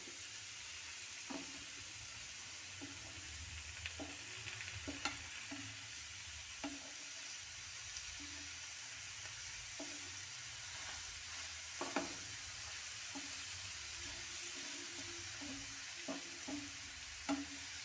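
Chicken stirred and coated in masala paste in a pan, a quiet continuous sizzle with scattered scraping and tapping of the utensil repeating every second or so.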